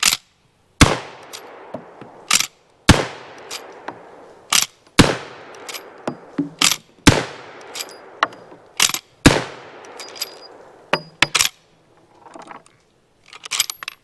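Repeated loud rifle shots from a Cimarron Winchester Model 1866 lever-action in .44 Henry, about a dozen sharp cracks at irregular intervals with short ringing decays and faint metallic lever clatter between them, no talking.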